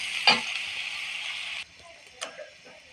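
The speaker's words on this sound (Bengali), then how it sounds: "এবার আমি সেখানে মরিচ পেঁয়াজগুলো দিয়ে দিচ্ছি।" Chillies and onions drop into hot oil for an eggplant fry, giving a loud, close sizzling hiss that cuts off abruptly partway through, followed by a few light utensil clicks.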